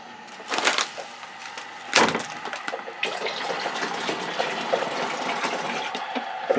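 Water is poured into a home brew mixture of dissolved black treacle and golden syrup, a close splashing gush with a couple of louder clunks, continuing steadily without talk.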